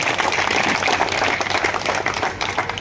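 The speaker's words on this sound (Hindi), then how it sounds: "जोरदार ताली हो जाएगी" Dense, loud applause from a village gathering honouring an auto driver's son who succeeded in the UPSC results, a steady wash of clapping with no gaps.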